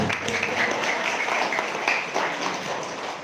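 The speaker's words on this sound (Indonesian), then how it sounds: "Tepuk tangannya Pak" Clapping from a crowd at an Indonesian Muhammadiyah religious gathering, a brief, thick burst of many hands that stays loud throughout and tapers slightly at the end.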